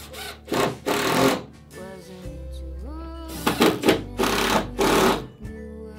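A power drill drives hefty number 12 screws into wooden oarlock pads on a Catalina Wherry rowing boat build, with a rising motor whine and a steady sustained run between several short, loud bursts of work noise.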